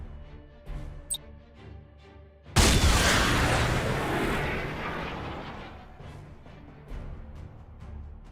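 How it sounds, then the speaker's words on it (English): Turret fire in a Warhammer 40,000 space battle from the game Battlefleet Gothic: Armada erupts suddenly as a loud, dense barrage of booming blasts, rumbling on and slowly tapering after a quieter stretch of low hum and faint ticks. "Our boarding torpedoes destroyed by turret fire!"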